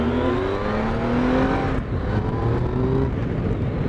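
A Triumph Tiger 1050 Sport motorcycle engine accelerates hard on an open road, rising in pitch through a gear, briefly easing, then pulling up again; loud and close with wind rush and no talk.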